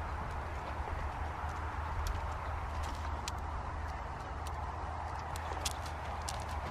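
Horse cantering around a dressage arena, hooves thudding in a steady rhythmic beat over a constant low background rumble, moderately distant with faint birds and no talking.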